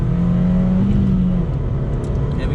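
A Mazda 2 Sport drives on a greasy 60 mph road, its engine droning steadily with a low hum and tyre and wind roar, loud and close throughout.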